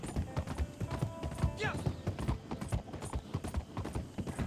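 Horse hooves clip-clopping in the video game Red Dead Redemption 2 Online, a steady rhythmic trot close by with a brief whinny, while someone talks over it.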